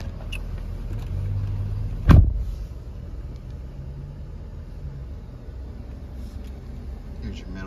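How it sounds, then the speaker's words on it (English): A 2019 Ford F-250 Super Duty truck engine idles in a steady low rumble, with one brief louder thump near the start and light background noise throughout. "Vehicle is on."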